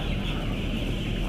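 Nine-day-old broiler chickens cluck steadily in a brooding setup, a close, continuous flock chatter with no talk.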